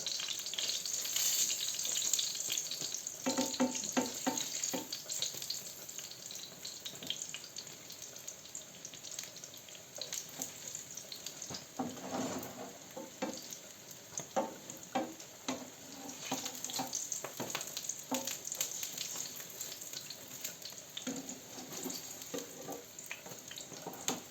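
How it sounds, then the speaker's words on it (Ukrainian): Soft, continuous sizzle of apple pancake batter frying in a pan, with occasional clatter and faint running water in the background. "смажимо до золотистого кольору з одного і з другого боку"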